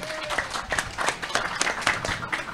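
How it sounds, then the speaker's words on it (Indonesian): An audience at a Karang Taruna community award ceremony in Banyuwangi gives a brief round of applause, moderately loud uneven clapping with some voices mixed in. "tepuk tangan dong untuk kita semuanya"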